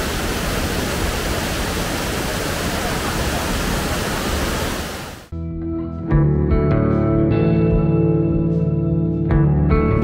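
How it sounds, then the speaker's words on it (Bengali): Durga waterfall at Ajodhya Pahar in Purulia, swollen with monsoon water, roars as a loud steady rush, then cuts abruptly to a different scene with a tonal hum and talk. "দারুণ লাগছে ফলসটা, প্রচুর জল আছে এখন।"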